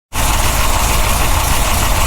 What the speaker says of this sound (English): here with the engine running, you can see the belts in action